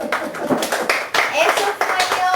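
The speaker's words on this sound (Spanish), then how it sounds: "Un aplauso para Edward." Brief classroom applause for a student during a history lesson, a few scattered claps close by, mixed with a teacher's voice speaking over them.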